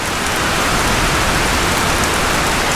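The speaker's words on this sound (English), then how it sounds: "we did need some rain" Heavy rain pours down on a vegetable farm in a dense, steady roar, loud and close, filling the whole clip without a break.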